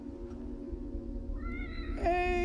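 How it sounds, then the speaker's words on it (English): Cat in the horror video game The Evil Within meowing, one drawn-out rising meow near the end over a low ambient game drone. "Hey, it's a kitty cat with a bow."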